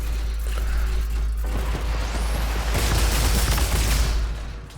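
Repeated shotgun fire in a video game mech battle: heavy booming blasts that blur into a continuous rumble of gunfire and explosions, loud and sustained, then fading at the end.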